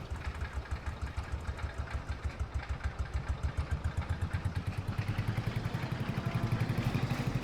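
A tractor engine in Farming Simulator 22 runs with a rhythmic, pulsing chug, loud and close, its beat quickening slightly and growing a bit louder as it pulls away, with no voices.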